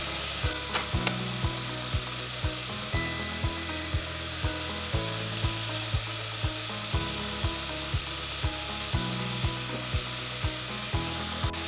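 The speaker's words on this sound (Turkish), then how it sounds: "Yeşilliklerimizin rengi dönene kadar yeşilliklerimizi kavuralım." Celery greens sizzle steadily in a hot pan while a utensil scrapes and taps the pan in a regular rhythm, close and continuous.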